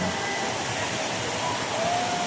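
The Rain Vortex indoor waterfall at Jewel Changi Airport gives a steady, dense roar of falling water that fills the space, continuous and unbroken throughout.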